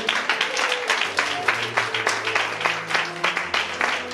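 Church congregation clapping steadily at a revival conference, a dense, rhythmic wash of many hands with music tones sustained underneath.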